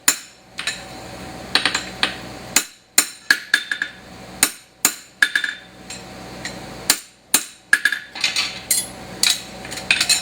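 A metal punch is struck repeatedly to clean up the edges of punched holes, sharp ringing taps arriving in irregular clusters, close and loud, with short silences between strikes.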